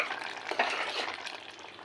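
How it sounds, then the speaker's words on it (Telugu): Bottle gourd milk curry being stirred in a pan with a spoon, a soft continuous scraping and swishing of thick liquid with faint sizzling, close and steady for under two seconds, no talking. "అలా అన్నీ వేసుకుని కలుపుకోవాలి"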